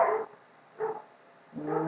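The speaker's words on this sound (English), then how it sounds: "I'm very sorry for the dogs in the background" Dogs bark in the background in three separate bursts, moderately loud, with quiet gaps between the barks.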